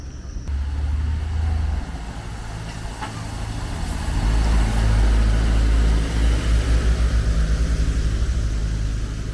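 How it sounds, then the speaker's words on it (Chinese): Heavy container trucks pass on a main road near a town, their deep engine rumble swelling loud and close, then easing as another heavy vehicle rolls by, with no talk over it. "白天这条主干道来来往往的全是那种大货车啊，拉的那个集装箱"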